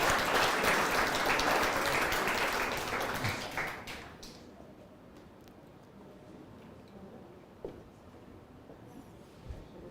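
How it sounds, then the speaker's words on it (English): Conference audience applause after a talk in Tallinn: dense clapping from a crowd for about four seconds, then fading into a quiet room with a few scattered claps and small knocks. "so a round of applause, please, for Dr. Jama."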